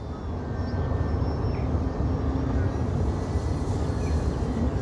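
A model RC airplane flies overhead near a large coal port, its engine a steady, continuous drone blended with broadband wind rush across the microphone, holding a fairly even level throughout.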